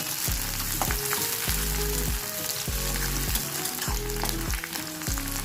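Chopped garlic, green chili, onion and capsicum fry in oil for restaurant-style chili chicken, a close, constant sizzle punctuated by regular scraping stir strokes roughly every half second, with no voices.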